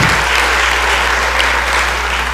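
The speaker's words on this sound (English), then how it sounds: "you all give them a round of applause" Applause on the Mississippi House floor for visiting ladies from Warren County, a loud, even wash of clapping from the chamber with a low steady hum beneath.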